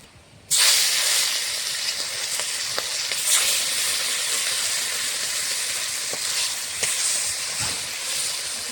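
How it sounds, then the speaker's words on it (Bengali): More catla fish pieces drop into hot oil and set off a sudden loud hissing sizzle, which then holds steady and close with a few scattered pops and taps. "বাকি মাছ এইভাবে ভেজে নেব।"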